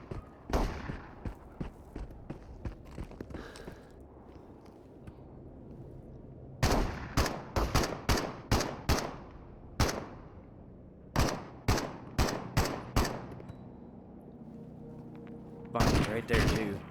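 Gunfire in the shooter game Into the Radius comes in sharp, loud bursts: scattered single shots early, then rapid volleys of several cracks each, separated by quieter stretches, with a voice talking faintly at times.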